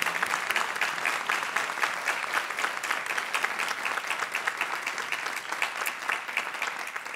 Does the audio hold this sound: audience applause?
yes